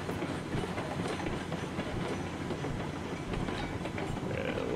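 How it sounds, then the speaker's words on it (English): A train rolling on rails in the RailRoads Online video game, a loud, continuous rumble with a steady clickety-clack throughout. "just let the weight of the train accelerate us again there."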